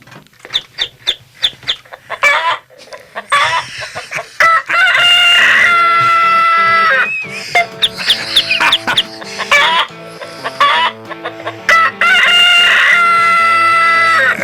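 A novelty button sound effect of a chicken clucking in quick bursts, then a loud rooster crowing cock-a-doodle-doo in long drawn calls, more clucks between, played loud and clear with no talking.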